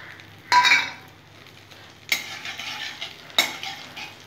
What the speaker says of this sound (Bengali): তেজপাতা, গোটা জিরা, এলাচ, দারচিনি, লবঙ্গ ফোড়ন আমি ফোড়ন করে নিলাম